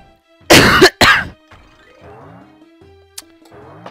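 Two sharp, loud coughs in quick succession, followed by faint rustling and low background noise.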